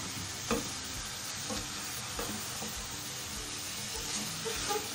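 Chicken for degi korma frying in a pan after releasing its water, with a steady close sizzle and a few soft, evenly spaced scraping stirs of a spoon; no one speaks.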